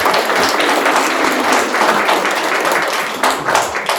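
Wedding guests applaud after the speeches, a dense, steady burst of clapping from a crowd that carries on for several seconds.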